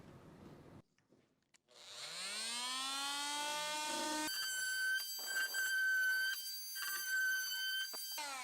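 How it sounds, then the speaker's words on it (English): An oscillating multi-tool spins up with a rising whine, then saws steadily through the back panel of a kitchen cabinet during a house-flip renovation. The loud buzzing whine wavers under load in several bursts, with no talking. "I had that oscillating cutter in here, so I went ahead and used that"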